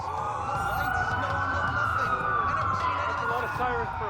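Police sirens wail continuously in the Watch Dogs video game, several overlapping and rising and falling close by over a constant background rumble.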